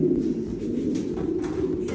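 A pigeon at a home pigeon loft coos nearby in soft, continuous throaty rolls.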